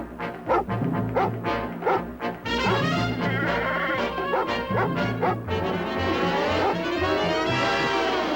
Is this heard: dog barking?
yes